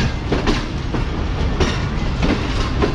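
Karakoram Express passenger train running between Lahore and Karachi, switching from the main line onto a branch line, heard from inside as a loud, steady rumble with rhythmic clickety-clack of wheels over the track joints.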